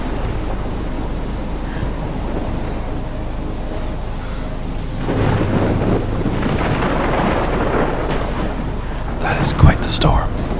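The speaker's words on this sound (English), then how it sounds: "That is quite the storm." A thunderstorm in Life is Strange near a seaside lighthouse keeps up a steady roar of wind and rain with deep rumbling that swells midway, ending in a few sharper crackles, loud and close throughout.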